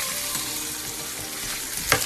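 Milk and butter bubble and simmer together in a pot, a steady close bubbling hiss with a brief louder splutter near the end.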